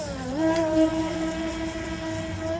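Brushless motor on a Henglong Tornado 17-inch self-righting RC boat with weeds caught in the prop, a steady whining drone that rises in pitch briefly and then holds, heard at moderate distance.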